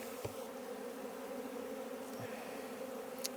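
Honey bees buzz in a steady, dense hum as a brood frame is shaken over the hive, a continuous drone with a few soft knocks and no voices.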